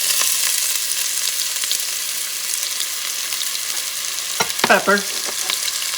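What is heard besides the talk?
onions frying in a pot for bison stew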